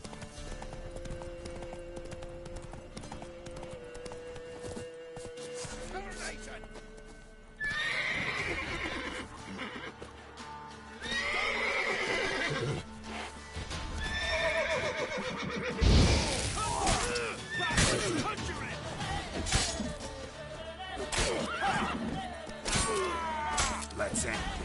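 A horse galloping in The Witcher 3, rhythmic hoofbeats with loud neighs and whinnies cutting through, plus game effects and a voice speaking at times.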